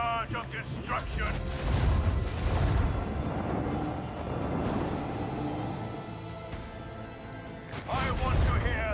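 A barrage from starship macro cannons in Rogue Trader rolls on as continuous heavy booms and crashing rumble, loudest near the start and again at the end, with faint voice-like sounds in the mix.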